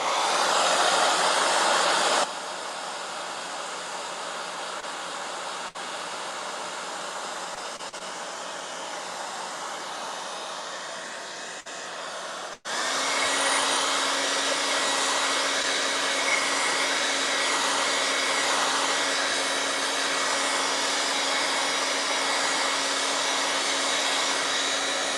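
Hair dryer blowing over a watercolor painting, a loud continuous whooshing roar that drops in level after a couple of seconds, briefly cuts out near the middle, then resumes at full strength with a steady hum through the end.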